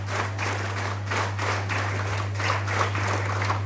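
Steady rhythmic clapping from a group of NCC cadets at a prize distribution ceremony, even beats over a constant low hum, with no voices.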